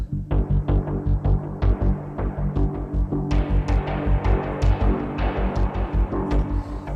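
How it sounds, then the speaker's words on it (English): Pulsing Omnisphere software synthesizer tones with a steady rhythmic throb, rising in pitch partway through, soaked in a splashy, dramatic spring reverb; loud and alone. "Some dramatic spring reverb and stuff there."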